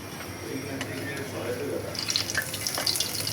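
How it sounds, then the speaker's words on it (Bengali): Water drains from boiled noodles in a steady close splashing trickle, brightening into sharper drips and patters near the end. "এই যে নুডলসগুলো পানি ঝরাতে দিয়েছি"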